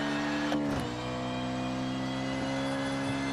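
A rally car in the racing game WRC Generations on a tarmac stage, its engine holding a steady droning whine with a slight dip and recovery, loud and continuous with no voices.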